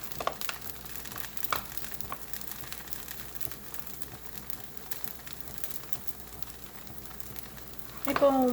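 Moringa dosa batter spread on a hot pan sizzles and bubbles steadily, a soft crackling fry running throughout, with a brief louder scrape near the end.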